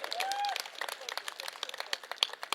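Applause from a live audience at a product demonstration in Chandigarh, scattered individual claps rather than a full ovation, moderately close, with a voice speaking briefly at the start.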